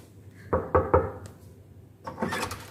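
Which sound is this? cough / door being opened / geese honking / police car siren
door being opened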